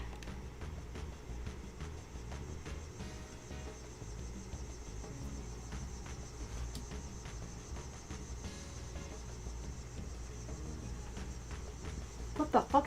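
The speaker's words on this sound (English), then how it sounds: "That's a fucking cicada?" Cicadas chirr in the video game Grandia II HD Remaster, a faint, steady buzzing drone that holds throughout under quiet game ambience, with a few louder sharp bursts near the end.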